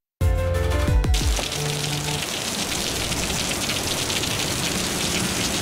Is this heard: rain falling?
yes